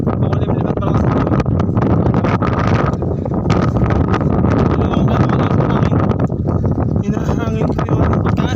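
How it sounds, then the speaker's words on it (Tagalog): Strong, gusty wind buffets the microphone outdoors on an overcast day after rain, a constant loud roar with broadband rumble, while a person talks over it. "malakas pa din ang hangin"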